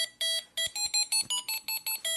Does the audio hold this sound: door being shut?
no